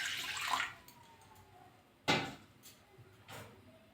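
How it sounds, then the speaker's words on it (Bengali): Water poured into a kadai, an Indian cooking pan, while prawns are being cooked: a short splashing pour near the start, then two brief sloshing bursts, fairly faint in a quiet kitchen. "কড়াতে একটু জল দিয়ে দেবো।"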